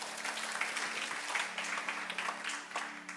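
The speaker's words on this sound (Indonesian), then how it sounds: "Tepuk tangan yang dahsyat." Fairly soft applause from a church congregation, even clapping for a few seconds with a faint steady musical hum underneath.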